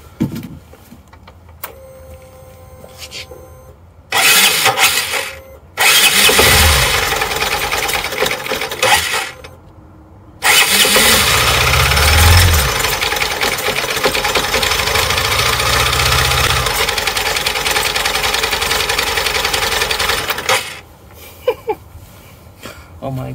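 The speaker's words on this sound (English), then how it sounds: "Just wanna run the engine like this." Honda CB125F 125 cc motorcycle engine with about 82,600 miles, running with its oil strainer cover removed, revving up close by in several loud bursts of a few seconds each, separated by quieter pauses.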